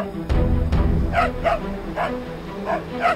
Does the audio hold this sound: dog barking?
yes